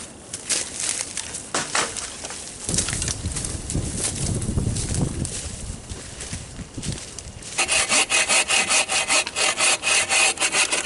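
Firewood is sawn by hand outdoors at a below-zero winter campsite. Close, loud rasping strokes are heard, with a brief crunching patch midway and then faster, sharper back-and-forth strokes near the end. No one speaks.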